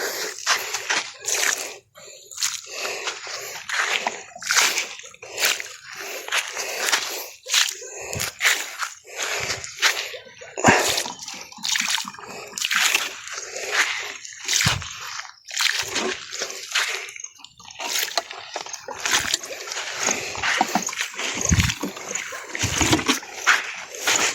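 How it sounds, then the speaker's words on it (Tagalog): Water splashes and sloshes in bursts as okra and vegetable plots are watered, with irregular close splatters of varying strength across the whole stretch. "5 block ito ang didiligan natin ngayon"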